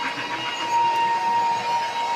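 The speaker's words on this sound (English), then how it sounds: "Oh, I love the sounds of the whistle, the steam whistle there." A thin, steady steam train whistle sounds faintly for over a second above a rumbling bed of rail and crowd noise at a Christmas pageant parade.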